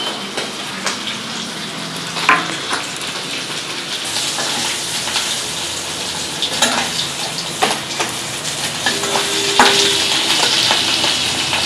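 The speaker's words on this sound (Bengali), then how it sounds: "মাছ ভাজা হয়ে গেছে, আর ভাজবো না," Hilsa fish pieces fry in oil in a pan with a dense, even sizzle and crackle that grows slightly louder toward the end, with sharp spits and pops scattered throughout.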